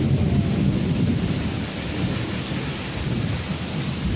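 Heavy rain pours steadily while thunder rumbles low underneath, a dense and even roar that fills the whole stretch. No one talks.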